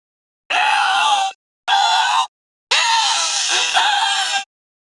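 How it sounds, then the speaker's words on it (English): Shouting and screaming from a dramatic fantasy scene: three loud, strained vocal bursts, two short and one longer, separated by brief silences and heard up close. "Stop shouting!"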